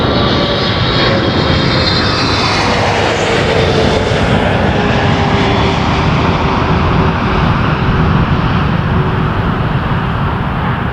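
A Boeing 777 freighter passes close by at Toronto Pearson airport with a loud, steady engine roar that fills the whole clip. The roar stays at constant strength with no voices over it.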